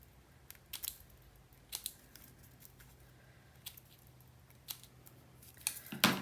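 Scissors fringe-cut around the edge of paper for a scrapbooking craft, making a series of quiet, crisp snips at irregular intervals. A louder cluster of cuts comes at the very end.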